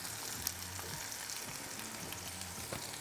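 A bun and cheesesteak with cheese sizzling in hot grease on a Ninja Foodi Pro XL griddle, a steady close crackle with small pops.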